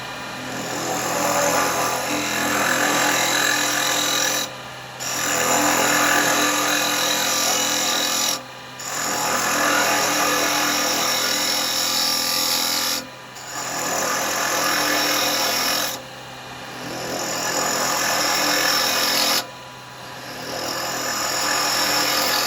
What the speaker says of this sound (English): I'm going to use the detail chisel. Lovely for getting in here,